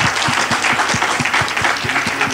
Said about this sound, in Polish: brawa dla naszych panelistów